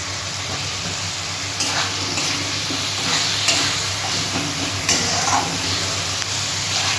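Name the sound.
spice paste with tomato frying in pan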